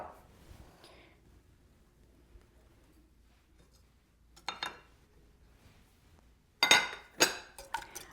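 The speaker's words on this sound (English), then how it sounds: "Whisk all that together. I'm just using a whisk, a hand whisk" A hand whisk beats two eggs in a bowl for orange cranberry muffin batter, with quick metallic clinks and scrapes that come in short bursts after near silence.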